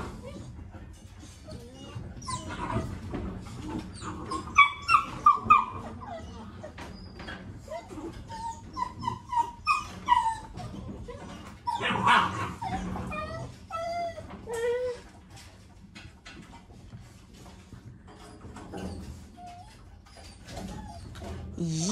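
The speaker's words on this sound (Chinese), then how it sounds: "你看这两个小罗威纳它也是那样，咬住你就甩头，跟小闪电一样" Two young Rottweiler puppies play-fighting and head-shaking, letting out repeated high whimpers, yips and little barks up close, with a person talking excitedly over them at intervals.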